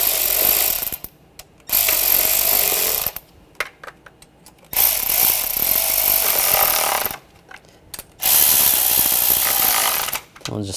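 On a 2009-2013 BMW 328i xDrive 3.0L inline-six, bolts on the crankshaft position sensor are tightened with a ratchet in three loud bursts of rapid clicking, separated by short quiet pauses.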